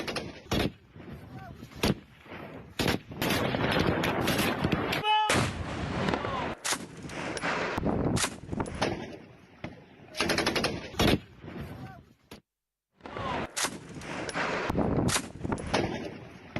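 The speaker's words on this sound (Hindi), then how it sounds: "और ये वीडियो जो आप देख रहे हैं पंजशीर इलाके का है, अफगानिस्तान में, जहां पर लगातार फायरिंग हो रही है।" Continuous gunfire in the Panjshir region of Afghanistan: dense, repeated bursts and single heavy reports fire one after another for the whole stretch, with brief lulls, loud and booming, as from close and distant positions.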